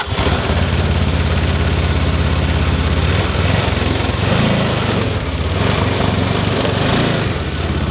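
Two snowmobile engines idle and run steadily nearby, a continuous loud low rumble with a slight rise and fall partway through and no talking.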